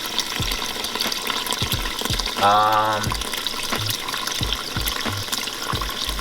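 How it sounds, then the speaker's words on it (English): Water runs from a tap at high flow into a basin for dyeing a sweatshirt, a steady close rush with a brief gurgling fill and scattered knocks underneath. "Oh my god, that's like too much water."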